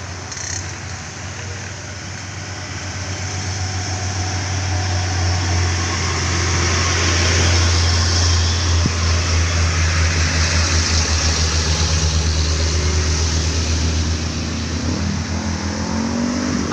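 Budiman and Prima Jasa buses on the Bekasi–Tasikmalaya route pass along the road with a heavy, steady engine drone that swells as they approach and then holds a low rumble amid road noise.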